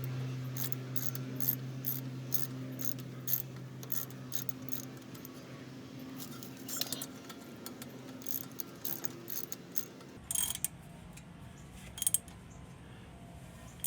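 Brake caliper bolt being loosened by hand during a brake pad change, giving close, irregular metallic clicks and light rattles over a low hum that drops out near the end, no talking.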